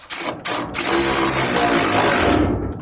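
Ratchet wrench tightening bolts on a transmission during a big-block, manual-shift swap into a Dodge Daytona, heard as a few short clicking bursts followed by a long, loud continuous ratcheting run close by.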